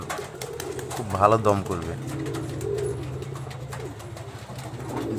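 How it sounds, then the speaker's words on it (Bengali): Flying pigeons kept for endurance coo in a low, throaty burst close by, while someone talks steadily over the birds. "এগুলো হচ্ছে দমের কবুতর"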